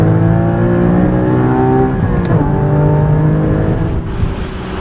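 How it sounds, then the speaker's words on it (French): Porsche Cayman 981 GT4 of 2015 running with its sport exhaust opened up, a loud, close engine note rising steadily in pitch under acceleration, dipping once and then climbing again. "il y a un bouton qui permet de libérer encore un peu plus l'échappement et ça donne ça"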